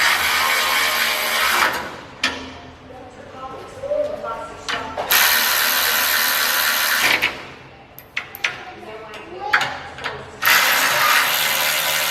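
Ratchet bolting in parts on a Premier Plasma 4x4 CNC plasma table build, with repeated bursts of loud, close clicking that stop and start through the clip in a workshop setting.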